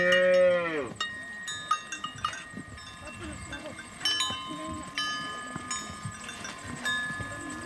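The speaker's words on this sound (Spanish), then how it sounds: "Su ganado también está ya en el corral." Cattle of the Mursi people gathered in a corral in the Omo valley moo and low close by and in the distance, a long deep call opening and then scattered bellows, with background murmuring and faint clanks.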